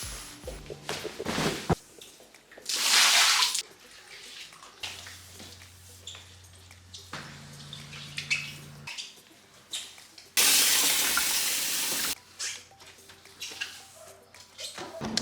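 Bursts of running water gush loudly during a cleaning session, alternating with quieter stretches of clattering, scrubbing and a low humming machine, close by.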